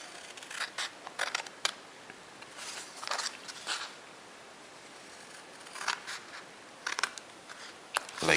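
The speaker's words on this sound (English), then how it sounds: "So I will cut on these two lines." Scissors snip along lines in folded paper in short, quiet bursts of crisp cutting separated by pauses, close and faint in a still room.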